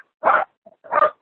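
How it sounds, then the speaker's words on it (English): A dog gives two short, sharp barks about half a second apart, close and clear, with a faint whimper between them. "We got some dogs."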